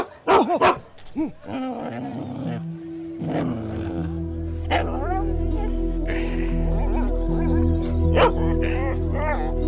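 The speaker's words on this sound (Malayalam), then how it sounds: "അല്ല റഫീഖെ ലാസ്റ്റ് ട്രിപ്പിന് പട്ടിയും കൊണ്ട് കയറുമ്പോൾ നമ്മളൊന്നും പറയാറില്ലല്ലോ" In a film scene on a bus, a dog barks loudly several times at the start, then a low engine hum settles in beneath people talking.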